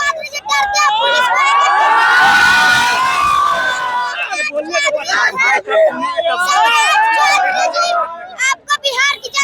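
A large, dense protest crowd at a march on the Raj Bhavan in Patna, with loud overlapping shouting and cheering that swells in the middle and then breaks into choppier bursts of voices.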